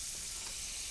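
Butter and olive oil sizzling in a pan for frying onions, a steady close hiss that holds at an even level throughout with no talking.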